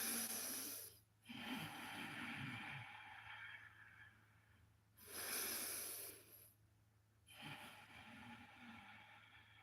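Strong, forceful yoga breaths come from deep in the core, with loud hissing exhales and snorting inhales repeating in a slow cycle, close to the mic and with no talk.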